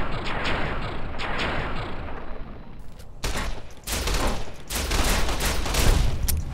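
Laser pistol shots in Fallout: New Vegas, a dense, noisy clatter of repeated blasts with bright crackling bursts, loud and continuous throughout amid game background noise.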